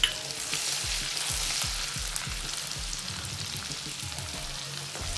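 Ginger sautéed in a frying pan on the way to homestyle chole bhature, a dense continuous sizzle with a quick run of rhythmic spatula strokes scraping the pan, close and steady, nobody talking.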